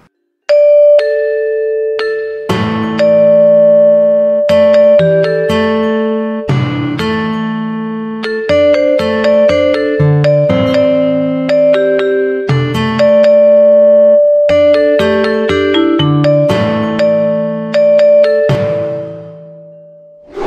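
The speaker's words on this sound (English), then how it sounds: "Let's now hear an example of Balinese gamelan." Bright metallic gongs and bronze keys ring out in interlocking patterns, a Balinese gamelan ensemble playing loud shimmering struck tones that decay and overlap.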